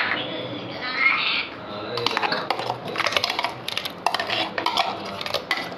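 Tamarind water, chilli, coriander and turmeric powders and a ground paste are stirred together in a bowl, making a quick run of close clicking and scraping taps after a softer swirl at the start.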